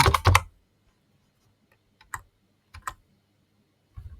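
Computer keyboard typing while entering a search query: a quick burst of clicky keystrokes at the start, then a few scattered single key taps after a pause, close and fairly quiet, with no talk.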